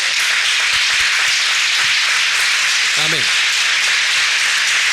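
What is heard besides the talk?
congregation applause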